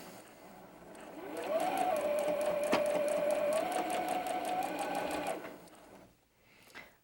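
Sewing machine stitching a quarter-inch seam on a Pies & Points quilt block, a steady close whirring run of several seconds that rises and holds, then stops, followed by a brief handling sound.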